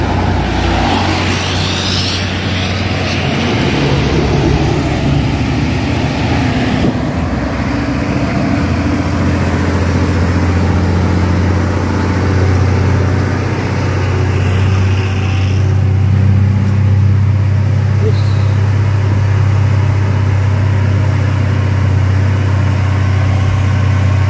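Several Mitsubishi Fuso 6x2 trucks labor up a steep hill, their loud, steady low diesel drone rising gradually without letup, with a strong rumbling engine note throughout and no talk.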